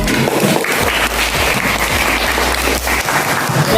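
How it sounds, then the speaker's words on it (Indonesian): Sustained applause from a classroom of students, dense steady clapping that fills the whole stretch with no talk over it. "beri aplaus untuk"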